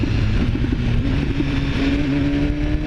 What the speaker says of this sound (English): that's the auto blipper on the downshift